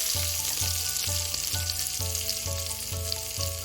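Chopped garlic, dried red chillies and turmeric fry in hot oil in a pan, a loud continuous sizzle close up, with a steady repeating low thumping rhythm running underneath and no talking.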